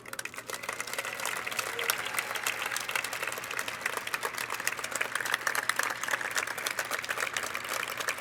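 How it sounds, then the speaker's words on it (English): Sustained applause rises from a dinner audience at a pancreatic cancer community fundraiser. The crisp, rapid claps from many hands hold at a moderate, even level for several seconds. "Please help me giving a cheer of appreciation for Dr."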